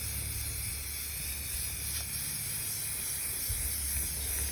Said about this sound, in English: Now I'm going to go just start spraying.